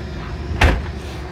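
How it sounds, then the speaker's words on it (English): A single door swings shut with one short, solid thud partway through, set against a quiet indoor background. "Wait, we have to shut the door."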